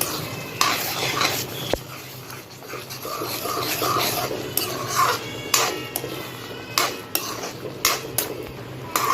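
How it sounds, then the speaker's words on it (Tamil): A spoon stirs bread halwa with thick boiled milk in a pan, giving repeated close metallic scrapes and clinks in an uneven rhythm over a soft bubbling sizzle, with no voices. "பால் சேர்த்து அதையும் நல்லா மிக்ஸ் பண்ணி விடுங்க"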